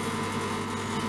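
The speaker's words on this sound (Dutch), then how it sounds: "gehaktballen die worden ontdooid op dit moment." Frozen meatballs defrosting in a home kitchen give off a steady, even appliance hum with a low mains drone, constant and unbroken with no voices.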